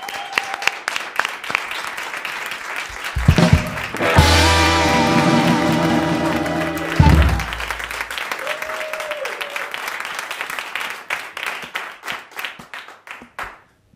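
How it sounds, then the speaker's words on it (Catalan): Audience applauding the Vengabuxes in a Catalan comedy show, a loud burst of clapping with a cheer rising in the middle, then scattered claps trailing off amid noise. "Un aplaudiment pels Vengabuxes"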